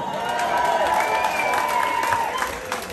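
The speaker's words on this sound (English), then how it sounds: "give yourselves a round of applause" An audience claps and cheers at a live rock concert, making a continuous roar of crowd noise with voices mixed in throughout.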